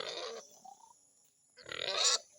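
Two bursts of rough pig grunting, close by, separated by a short quiet gap with a faint squeak in between.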